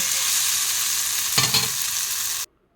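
Tomato sauce being stirred into a taco filling in a hot pan, a steady close sizzle broken by a brief scrape of the spoon before the sound cuts off abruptly.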